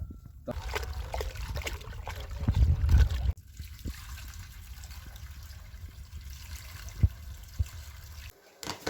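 Water pours steadily into a container while preparing brine for soaking apples, a continuous close trickle and splash that briefly swells, then settles into a quieter flow with a few clinks.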